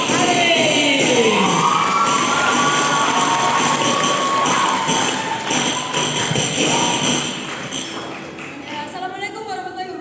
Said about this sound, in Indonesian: Beri tepuk tangan yang meriah untuk Mbak Tingkir Tiang Alit.